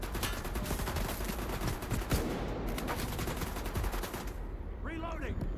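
Rapid automatic gunfire in the video game S.T.A.L.K.E.R. 2: Heart of Chornobyl, dense repeated shots in quick bursts close by, ending in a short quieter tail.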